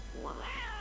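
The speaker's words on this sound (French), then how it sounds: "Là, des chats qui gueulent parce que c'est le cimetière animaux." Cats yowl in a rising, wavering caterwaul at a pet cemetery in The Simpsons: Tapped Out mobile game, one long drawn-out cry over a steady low drone.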